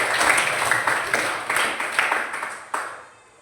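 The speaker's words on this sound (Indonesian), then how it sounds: "tepuk tangan untuk Andini." A school class claps for a classmate, a short, loose patter of hands with a few sharper claps, thinning out toward the end.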